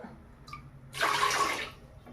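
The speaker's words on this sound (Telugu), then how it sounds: "వాటరు 3 కప్పులు పోస్తాను" Water is poured into a cooking pot while making Rayalaseema ragi mudda, a single short splashing pour of about a second, close by and clear.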